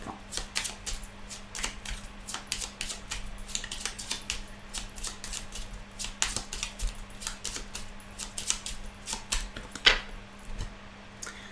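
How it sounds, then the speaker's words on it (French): Cards from a small Lenormand deck being cut and shuffled, a steady run of crisp, close flicks and riffles with a sharper snap near the end, over a low constant hum. "on va faire la coupe avec le petit Lenormand pour les personnes qui apprennent ce support"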